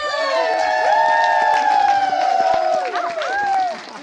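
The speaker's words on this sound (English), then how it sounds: "And everybody, give a round of applause for that." A crowd at a film premiere whoops and cheers, with high shouting voices rising and falling over scattered clapping, loud and near, fading at the end.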